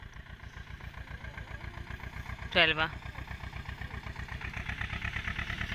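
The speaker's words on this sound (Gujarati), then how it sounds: "આલપા આપણે ટ્રેક્ટર ચાલી રહ્યું છે" Tractor engine running steadily in a farm field with millet crops, a low rhythmic diesel chug throughout; a person speaks briefly over it midway.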